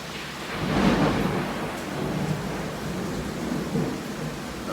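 Heavy rain pours steadily while loud thunder rumbles and booms through the storm, swelling early and again near the end, with no talking.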